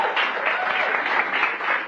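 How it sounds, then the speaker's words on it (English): An audience at a celebration event in a hotel ballroom gives a dense, even round of applause, with some voices mixed in among the clapping. "Let's give them a round of applause."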